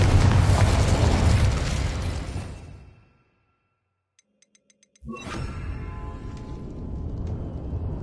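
In Hogwarts Legacy, a Confringo spell sets off a loud, rumbling explosion that fades into near silence. Faint ticks follow, then another heavy blast rolls on steadily.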